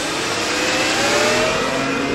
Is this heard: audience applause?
no